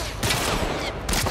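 Gunfire from a weapon in The Last of Us Part I, sounding as a couple of loud, close bursts of rapid shots within a second.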